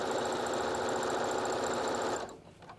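Sewing machine stitching a quarter-inch seam along a pillowcase, a fast, steady mechanical whir and rattle up close that runs evenly, then stops abruptly near the end.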